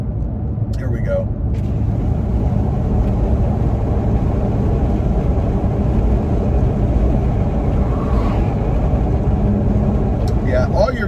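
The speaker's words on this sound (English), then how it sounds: "all you're getting out of it is wind noise from the window itself." Inside the cab of a Toyota Tacoma cruising at about 46 mph with a window rolled down, loud, steady wind rush and low road rumble persist evenly throughout.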